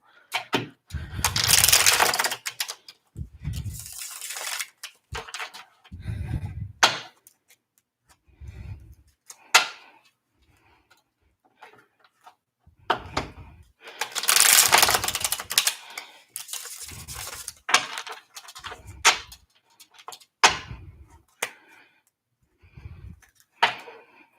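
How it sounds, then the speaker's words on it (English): A tarot card deck is shuffled close up in repeated short riffling bursts of crisp clicking, separated by brief pauses and softer thumps as the cards are squared. "I'm just shuffling up my deck so I can start afresh for you."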